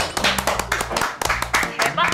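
A few people clapping hands in quick, uneven bursts at a Korean restaurant table before a meal of grilled intestines, close by and mixed with chatty voices and laughter.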